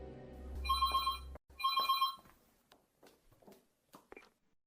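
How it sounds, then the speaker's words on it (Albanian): A telephone rings twice in clear electronic bursts, each about a second long with a short gap between them, followed by a few faint rustles and soft taps in an otherwise quiet room. "Një ditë më telefonoi miku im Deni."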